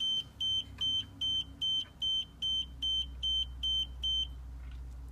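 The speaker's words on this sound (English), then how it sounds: "you'll see the receiver will stop beeping" A steady series of about eleven short, high electronic beeps from an nRF24L01+PA radio receiver module at an even pace, loud and close, then stopping when the transmitter is switched off, over a low background hum.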